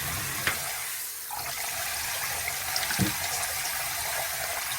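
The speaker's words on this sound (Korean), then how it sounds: "물기를 빼려고 이렇게 그냥 이렇게 물기를 빼줘야 돼요" Water trickles and splashes steadily as soaked glutinous rice drains, a continuous wet hiss close by with a few small clunks and knocks and no talking.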